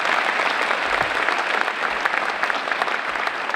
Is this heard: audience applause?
yes